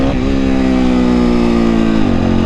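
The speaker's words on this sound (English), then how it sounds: "Hear the bike screaming." A motorcycle engine revs high and holds a screaming, sustained tone while the rider balances a wheelie with the clutch and foot brake, loud and close, then drops in pitch near the end.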